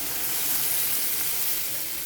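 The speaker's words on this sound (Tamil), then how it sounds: "இப்போ 2 கிளாஸ் தண்ணி சேர்த்துக்கலாம்." Water poured into a pan of sautéed tomatoes sizzles in a steady, bright hiss, continuous and close for a couple of seconds.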